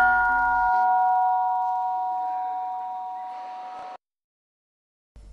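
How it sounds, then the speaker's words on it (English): A struck gong at a forest meditation centre in Bago sounds one clear, sustained ringing tone that slowly fades for several seconds before cutting off, heard alone without speech. "When the monks heard the gong, they went up to line up for the breakfast."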